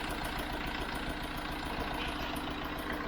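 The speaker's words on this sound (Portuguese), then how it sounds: "A gente para do lado do motor, parece que tem barulho" Tractor engine idling with a strange noise, a steady close low rumble with a faint repeating knock running evenly throughout, no talk.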